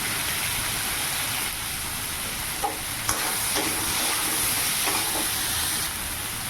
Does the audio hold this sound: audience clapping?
no